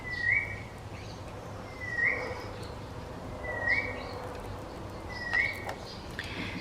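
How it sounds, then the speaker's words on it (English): Wild birds chirping outdoors: a short, clear call repeats four times at steady intervals about 1.7 seconds apart, moderately near, over a quiet background hum. "Who needs to play music when you have birds, real birds, chirping in the background?"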